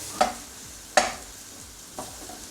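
Eggs being scrambled in a frying pan: three sharp utensil scrapes and stirs against the pan, evenly spaced, over a faint background sizzle with no talking.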